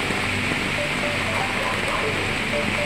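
Heavy rain from Typhoon Enteng pours in a dense, steady hiss, close and unbroken across the whole stretch, with a low rumble beneath.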